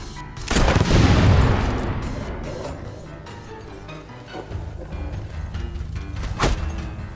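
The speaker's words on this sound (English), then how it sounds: "The scumbag's shooting at us." Enemy gunfire in Fable III, a loud booming shot opening the stretch, then quieter battle noise and another sharp crack near the end.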